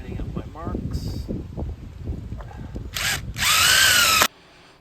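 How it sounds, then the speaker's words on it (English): A power drill with a spade bit bores holes into wooden posts for a cable railing install. Talk comes first, then two loud, whining drilling bursts run close up, the second one longer. "it made sense just to drill all the remaining holes as I had my marks on all the posts ready to go"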